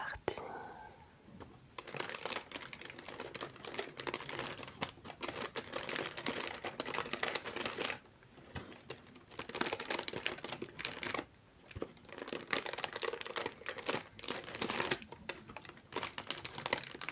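Delicate blue tissue paper is lifted and handled up close, giving bursts of crisp crinkling and rustling that pause briefly between handfuls.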